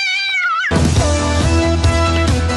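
A cat's drawn-out meow, loud and close, used as a comic sound effect, breaks off abruptly into a dense, loud burst of other sound that runs to the end.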